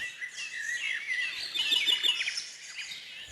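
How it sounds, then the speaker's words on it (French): Small birds near nest boxes in Saint-Brieuc chirp and twitter in dense, overlapping high calls, fairly close and steady, with faint soft tapping beneath. "les oiseaux chantent, picorent"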